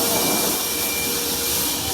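A vacuum cleaner runs continuously with a loud, steady high-pitched whine and airy roar, unbroken for two seconds with no talking over it.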